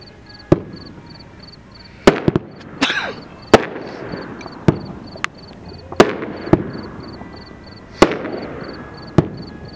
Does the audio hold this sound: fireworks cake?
yes